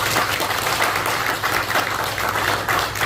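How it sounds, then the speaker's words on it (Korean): A church congregation claps together in steady, dense applause filling a worship hall during a pastor's retirement and installation thanksgiving service, continuous and fairly loud with no voices above it. "새로운 일과 시작하는 결단에 우리 모두 큰 박수와 찬사를 보내드리고 싶습니다"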